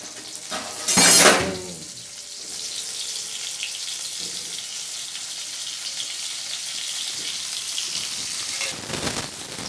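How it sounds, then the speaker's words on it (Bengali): Square-cut pumpkin pieces hit hot oil in a wok, a brief loud hiss, then a steady softer frying sizzle that carries on with a few faint scrapes. "এবার ওই তেলেই আমি টুকরো টুকরো করে কেটে রাখা কুমড়োগুলো দিয়ে দেবো"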